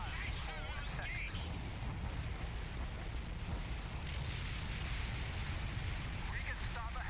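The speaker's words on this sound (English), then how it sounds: "Our ordnance landed on the mark. Firing for effect." Artillery barrage in the game World in Conflict makes a rolling wall of dense, rumbling explosions that stays loud and continuous throughout, mixed with faint radio-style voices.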